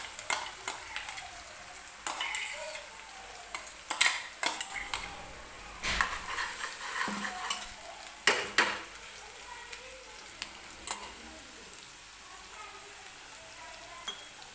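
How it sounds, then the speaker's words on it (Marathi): Gravy of blended paste frying in oil in a pan for matar paneer, a soft sizzle under repeated scrapes and clinks of a spoon stirring against the metal, fairly quiet and close. "ही ग्रेव्ही आपल्याला तेलामध्ये व्यवस्थित भाजून घ्यायची आहे."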